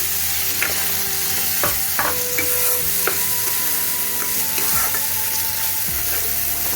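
Potatoes tipped into frying masala for a fish-roe kofta curry and stirred, with loud continuous sizzling and repeated clanking spatula scrapes against the pan.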